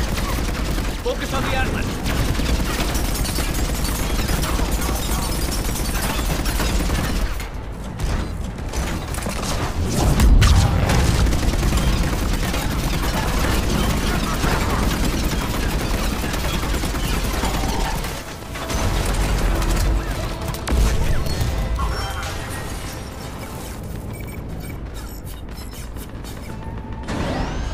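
Heavy cannons fire in Mass Effect Legendary Edition during the Omega mission, a dense, constant barrage of booms and mechanical clatter layered with game music, with a character briefly speaking over it.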